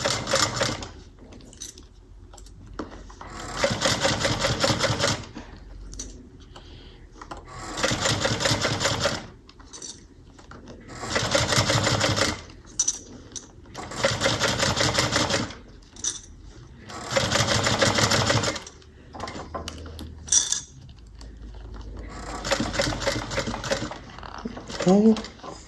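Sewing machine stitching a bag handle, with bursts of rapid needle whirring separated by pauses, including a short back stitch; a person talks in between the sewing runs.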